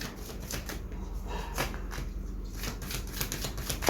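Tarot cards being shuffled and drawn during a Hindi tarot reading: a quiet, close run of soft papery riffles and flicks in irregular bursts, with no voice over them.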